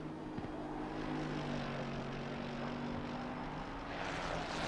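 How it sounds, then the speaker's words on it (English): A race car engine drones steadily in a racing video game at the Spa circuit, a sustained tonal whine with a slight pitch shift, heard alone at moderate level. "just listen to the lovely engine sounds while I rehydrate"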